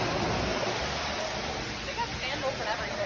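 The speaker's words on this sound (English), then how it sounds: "Look at a waterfall in the store." An indoor waterfall in a shop gives off a steady, broad rushing splash that fills the space, with faint indistinct chatter in the background.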